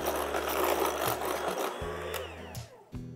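Electric mixer whirring through date pinwheel cookie dough, a loud close motor drone that shifts pitch as it stops and restarts, with no talk.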